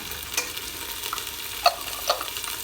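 Onions and chili fry in a pan with a low, steady sizzle, broken by a few sharp utensil clinks and scrapes; no one speaks.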